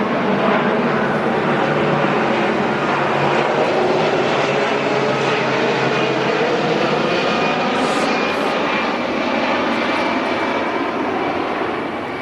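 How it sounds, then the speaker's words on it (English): An airplane drones overhead, a loud, steady broadband engine roar that holds for the whole stretch and eases slightly at the end. "Another plane."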